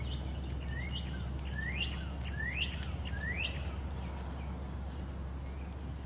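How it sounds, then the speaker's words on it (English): A cardinal sings outdoors among trees in the morning, giving four or five rising slurred whistles in an even rhythm at moderate distance over a constant low background hum. "That one is a cardinal"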